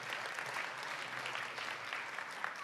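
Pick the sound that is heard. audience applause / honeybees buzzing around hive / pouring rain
audience applause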